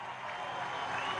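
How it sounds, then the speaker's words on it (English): A crowd at a beach air show applauds a paratrooper's landing, steady distant clapping that forms a soft, even wash of sound. "a big round of applause"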